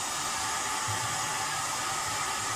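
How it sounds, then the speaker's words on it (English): Heat gun on its lowest setting warming a Triumph Bonneville motorcycle fuel tank, a steady close airy blowing hiss that stays constant throughout. "Using a heat gun here on a lowest setting"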